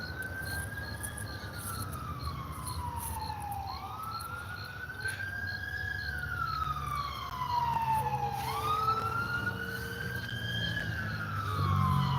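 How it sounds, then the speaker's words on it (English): Fire engine sirens wail in long rising and falling sweeps as the trucks pass at moderate distance, over steady road traffic rumble. "there must be a big fire because that was already 3 fire engines that drove by"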